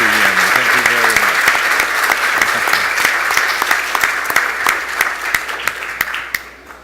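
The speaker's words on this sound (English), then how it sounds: "I want to ask all of you for a big applause for Anna, for Duan, and of course for Tuyeni" Big round of audience applause closing a conference debate on trade and hunting bans for endangered tropical species, dense clapping with sharp individual claps that tapers off near the end; a voice speaks briefly at the start.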